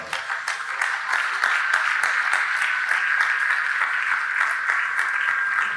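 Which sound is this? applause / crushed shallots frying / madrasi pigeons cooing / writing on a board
applause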